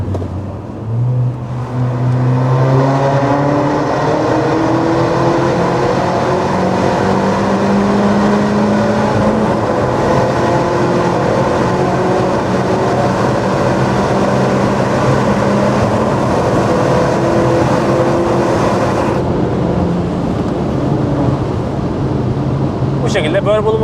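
A Seat Leon Top Sport's 210 hp 1.8-litre turbo 20-valve engine runs steadily and loudly close by, its tone slowly rising and falling as it revs, with a faint voice underneath.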